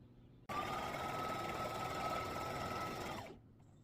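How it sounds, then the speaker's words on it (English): A sewing machine stitches a fabric table runner in one continuous close whirring run of about three seconds, starting abruptly and winding down at the end, with no talk. "Now as I'm sewing, I'm also bringing the fabric up so that it stays even"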